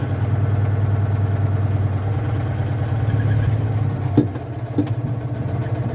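A 1973 Citroen 2CV engine runs steadily at low revs while the car reverses, a constant close mechanical drone with a couple of brief clunks near the end, no voices.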